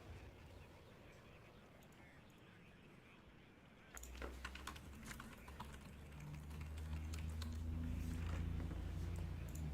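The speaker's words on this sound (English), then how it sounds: "He's typing something." Computer keyboard typing, a quick run of light key clicks against a background hum, joined partway through by a steady droning tone, fairly faint and close.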